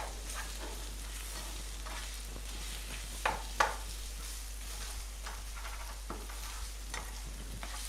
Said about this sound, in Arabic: نقلبهم إلى أن شوي يستوون